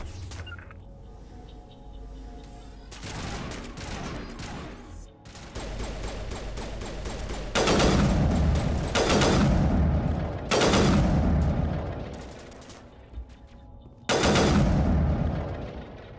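Gunfire in the Mass Effect video game, with loud rapid bursts and heavy booming sniper shots in repeated volleys alongside intense in-game combat noise.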